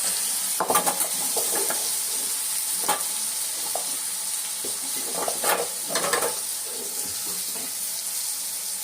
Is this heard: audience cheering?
no